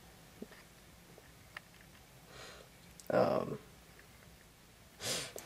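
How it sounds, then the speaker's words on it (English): A few quiet nasal sniffs and breathy snorts from a person with a cold, spaced apart and close to the microphone, with one longer, louder sniff in the middle. "Hear me sniffling a little bit."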